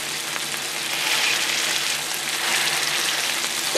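Burger patties fry in a hot pan, giving a loud, steady crackling sizzle close by that runs throughout without talk.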